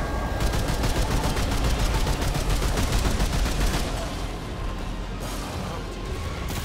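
Rapid, continuous gunfire hammers at a boss fight in Remnant 2, loud and dense with rattling bursts and booms that ease slightly toward the end.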